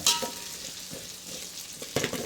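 Onions and tomatoes fry in a pan while being stirred, giving a steady close sizzle with scraping strokes and a louder burst of stirring near the end.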